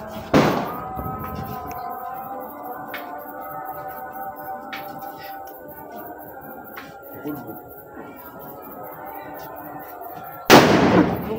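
Firecrackers are set off for Eid celebrations: a sharp bang opens, followed by a long whistling, fizzing trail with scattered pops, then another loud burst near the end.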